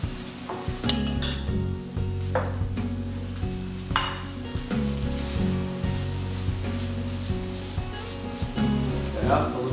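Cooked black beans, sautéed corn and lentils sizzle as they warm in a hot pan, with a spoon scraping and clinking against it in irregular strokes, and a voice talks over the frying.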